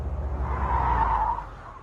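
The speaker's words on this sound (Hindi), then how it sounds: "गाड़ी आ गई है, शायद आ गया।" A car rolls up and comes to a stop, its tyres giving a brief skidding squeal over a low engine rumble, fairly close and heard alone before fading.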